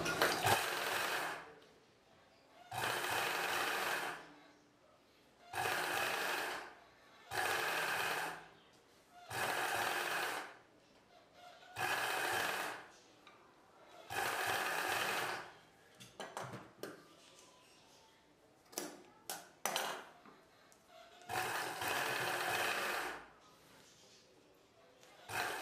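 A sewing machine stitches a folded piece onto the neckline of a dress, running in about nine loud, steady bursts of a few seconds each, separated by short pauses with light clicks and handling noises.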